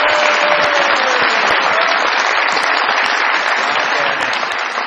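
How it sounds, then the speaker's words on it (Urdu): A studio audience at a Pakistani TV comedy talk show gives loud, dense applause that carries on steadily throughout and fades only slightly at the end. "بہت ساری تالیوں میں ویلکم کیجیے گا ایک مرتبہ پھر"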